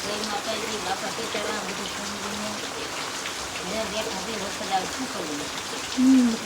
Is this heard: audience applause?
no